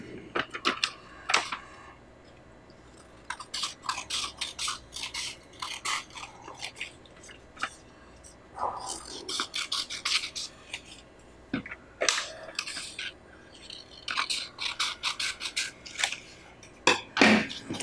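Paper cards are cut with scissors, giving a long run of crisp, rapid snips and rustles in irregular bursts, close and fairly quiet, with no talking.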